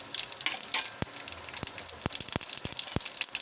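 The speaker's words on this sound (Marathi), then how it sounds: "आता थोडंसं यात तेल घालायचं, आपल्याला पाहिजे तेवढं। मग राई जिरं घालायचं," Mustard seeds and cumin sizzle in hot oil, a soft steady fry punctuated by a string of sharp, irregular pops and crackles as the seeds spit, close up with no voices.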